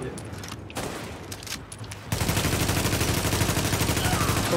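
Gunfire in the video game The Division, laying suppressing fire on a sniper during co-op play: a few scattered shots, then a loud, sustained rapid burst of automatic fire that runs to the end.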